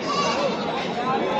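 Goat bleating at a Sunday sheep market, with young kids nearby; bleats rise above a dense, noisy market crowd with steady talk throughout.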